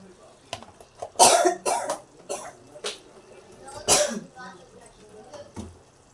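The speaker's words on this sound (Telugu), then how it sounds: "కాస్త దగ్గు వస్తుంది ఫ్రెండ్స్" Several sharp coughs burst out in a loose cluster, close and loud, with quieter throat-clearing sounds between them.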